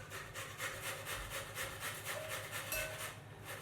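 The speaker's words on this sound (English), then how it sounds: "my courgette's almost finished grating now" Courgette rubbed against a box grater, a quiet, rhythmic rasping stroke repeated about twice per second, close by and alone.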